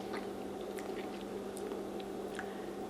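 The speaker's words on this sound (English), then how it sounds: "I'm just gonna taste test it." Someone chews a taste of freshly cooled homemade jam close to the mic, with soft moist clicks and squishes over a steady background hum and no talk.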